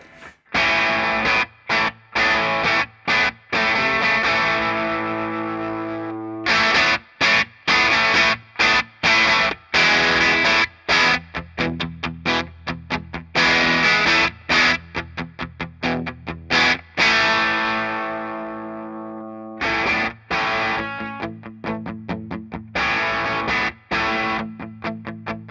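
Electric guitar driven through a Hamstead Odyssey overdrive pedal plays loud, gritty distorted chords and riffs with choppy stops and sustained ringing notes, alone without talk.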